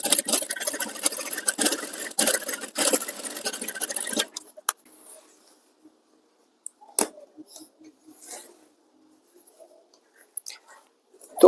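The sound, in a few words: sewing machine stitching the corner of a shawl collar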